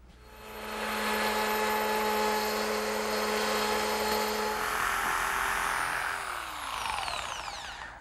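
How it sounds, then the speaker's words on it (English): A router fitted with a straight cutting bit and a guide collar riding a jig cuts one side of a wooden tongue, a loud steady whine that winds down near the end, alone without talk. "using my router with a straight cutting bit and this collar, which rides against the edge of the jig"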